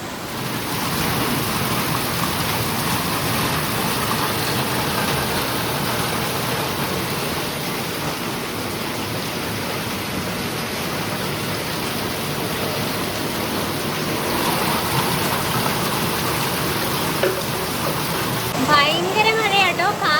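Continuous heavy rain pours steadily, a dense wash of noise throughout, with faint voices and a brief clatter near the end.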